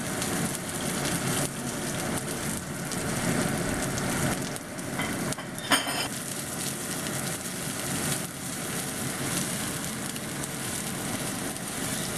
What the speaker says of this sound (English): I'm going to stir fry the onion first.